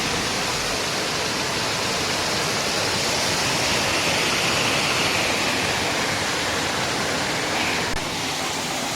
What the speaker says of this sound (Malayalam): അവിടെ നമുക്ക് ചെറിയൊരു വെള്ളച്ചാട്ടമാണ്, നല്ല രസത്തിൽ ഇങ്ങനെ വരുന്നുണ്ട് വെള്ളം